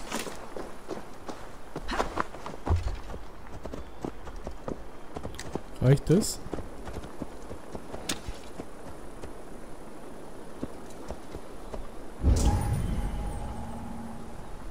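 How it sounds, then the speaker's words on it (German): Horse hooves clip-clop in Assassin's Creed Valhalla, a steady trotting rhythm of soft thuds running under someone speaking German, with a few louder game impacts along the way. "Pferdchen."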